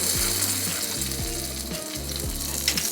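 Fresh garlic, jalapeno peppers, red pepper and salt sizzle in a hot pan with a steady frying hiss, while a low rhythmic mechanical thumping repeats underneath.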